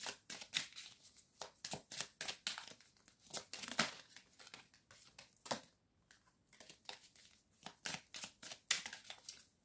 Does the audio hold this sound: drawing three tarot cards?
yes